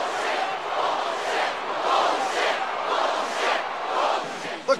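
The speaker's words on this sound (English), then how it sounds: "The crowd appears to be voicing its displeasure." A basketball arena crowd in Phoenix boos in displeasure, a dense, steady wash of many voices with slow surges in loudness, heard alone for about five seconds.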